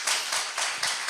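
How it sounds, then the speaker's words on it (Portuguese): A congregation at a church service applauds in a short burst of dense, steady clapping that swells and eases in waves across about a second. "Vamos dar um aplauso ao Senhor Jesus."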